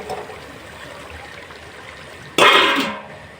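Liquid splashes suddenly into a cooking pot of spicy chicken curry in a village kitchen, a short loud pour that tails off after a quiet stretch of low background noise.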